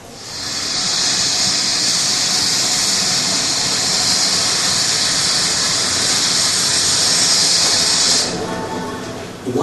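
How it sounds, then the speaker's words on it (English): A loud, steady roar and hiss from an airplane arriving at the island of Tuvalu builds and holds for several seconds before cutting off sharply near the end. "Watching an airplane, which comes to the island twice a week, gives Tuvaluans pleasure."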